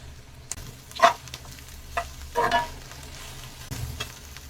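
Chopped coriander leaves sauté in a pan for Tamil kothamalli chutney, giving a soft, low sizzle broken by a few short stirring scrapes. Nobody speaks.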